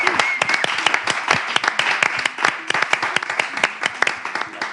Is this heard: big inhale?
no